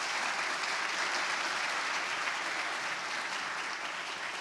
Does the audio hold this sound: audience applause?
yes